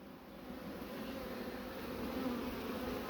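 A dense, steady drone of honey bees buzzing at a coastal apiary hive, continuous and fairly faint, with no voices.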